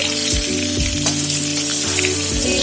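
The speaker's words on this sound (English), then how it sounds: "We will fry the onions till they are light golden in color." Thinly sliced onions frying in a pan with ginger, a loud, steady crackling sizzle close up that runs unbroken throughout, with a low mechanical hum and a few soft thumps beneath.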